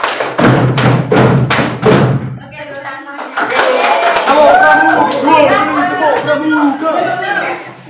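Classroom children clap in unison in a counted pattern: a few loud, close, sharp claps, then the room breaks into lively children's chatter and talking.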